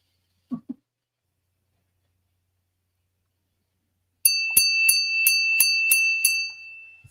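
A small etched crystal bell rings in a quick run of about seven bright, high chimes close by, then fades out, after a brief soft handling tap.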